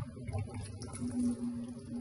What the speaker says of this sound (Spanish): Si le echo agua